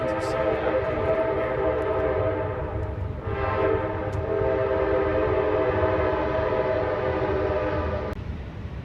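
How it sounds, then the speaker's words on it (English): Loud Amtrak train rumbling past up close in a city, its horn blaring in sustained harmonic tones over heavy wheel and rail noise that continues steadily throughout. "Damn, that was loud for an Amtrak train."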